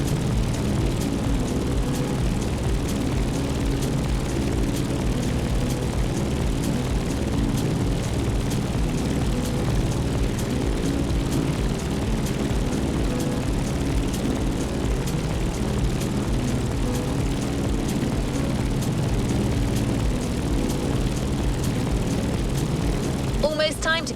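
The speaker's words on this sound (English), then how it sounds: "we decided to go aerial, vintage, and bold with the Grumman Bearcat F8F" A vintage Grumman Bearcat F8F propeller fighter in the racing game The Crew Motorfest drones with a loud, continuous radial-engine roar and a throbbing low rumble, holding steady throughout.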